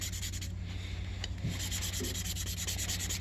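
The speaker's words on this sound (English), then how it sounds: "So now we're going to go around the rest of the neck, give it all just a little kiss of sandpaper." Sandpaper rubbing steadily around a saxophone neck cork, a continuous close, soft scratchy hiss with no pauses over a low background hum.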